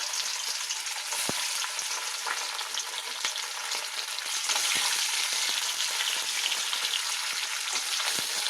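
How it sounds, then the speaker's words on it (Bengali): Fish frying in hot oil in a wok, a loud, continuous close sizzle with constant crackling pops and no talk. "তাহলে মাছগুলো ভেজে নিই"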